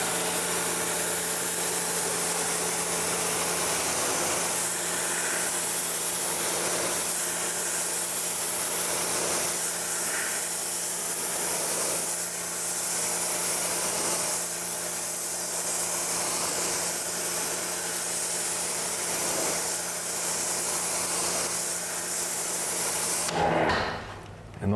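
Water sprays steadily onto the muddy carpeted wheel well liners of a car, a continuous close hiss over a low mechanical hum that runs about twenty-three seconds before stopping abruptly.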